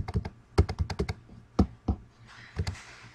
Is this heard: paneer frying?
no